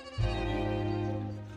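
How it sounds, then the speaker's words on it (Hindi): A young goat kid that has climbed up a tree gives one drawn-out, wavering bleat, fairly close and clear, lasting over a second before fading slightly. "ओ खुदा बख्श, तेरी बकरी का बच्चा दरख्त पर चढ़ गया"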